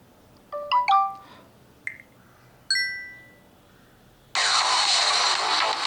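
Ringtone previews play on a Vivo Y16 phone: a quick rising chime melody, then two single bell-like tones, before a louder, sustained bright ringing sound starts and continues to the end.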